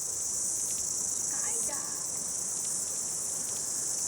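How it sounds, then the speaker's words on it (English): Cicadas buzz in a continuous high-pitched drone, loud and steady throughout, in the sun at Kauri Glen Reserve, with faint bird calls briefly in the background. "Cicadas enjoy the sun."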